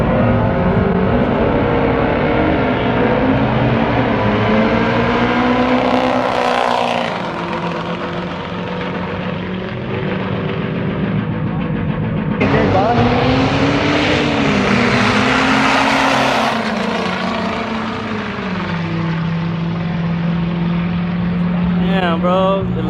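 Race trucks at a Truck Wars drag event roar with loud exhaust, the engine note swelling and sweeping up and down in pitch as vehicles launch and pass, with distant crowd noise underneath.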